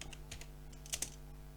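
Several light, quick keystrokes on a computer keyboard, typed in a short irregular burst with a couple of louder clicks near the end, close and fairly quiet over a steady low hum.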